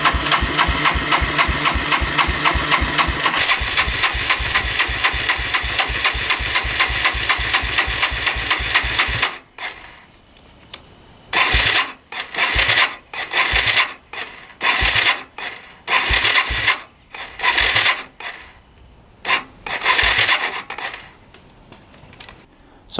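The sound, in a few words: street legal dirt bike engine cranking over but not firing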